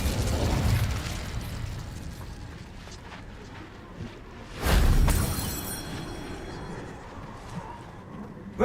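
An Incendio fire spell is cast in a Harry Potter video game, giving a sudden whooshing fiery burst that swells loudly midway and then fades. Rumbling game ambience runs before and after it.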